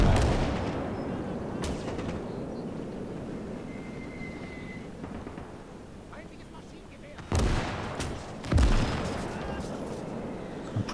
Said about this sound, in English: Pretty sure I can hear a mortar still, can't you?